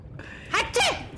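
A single short sneeze, moderately close and fairly loud, with a quiet stretch before it and low background noise throughout; no other voices are heard.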